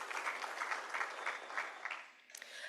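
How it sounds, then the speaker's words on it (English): Seminar audience at a conference opening session gives a round of applause, a soft, fairly distant patter of many hands clapping that thins out near the end. "another round of applause for them"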